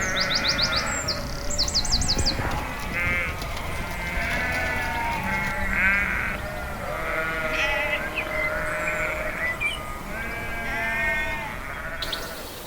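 Sheep and lambs bleat repeatedly on a farm track as a pony and trap passes, several calls overlapping near and far, with birds chirping and tweeting in the background.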